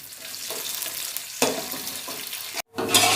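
Onions, bay leaves and black cardamom fry in hot oil, giving a loud continuous sizzle broken by stirring scrapes. The sound cuts out briefly near the end, then the frying returns.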